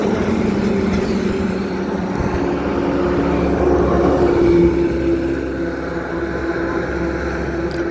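Steady, loud wind rush buffets the microphone while riding an Activa scooter on a road near Pipadi, with a low engine drone underneath and no talking.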